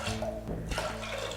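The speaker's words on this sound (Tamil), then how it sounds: "3 டம்ளர் தண்ணி ஊற்றியிருக்கேன்." Water poured from a tumbler into a pressure cooker holding lentils for sambar, a steady close splashing gush with a brief dip midway, lasting just over a second.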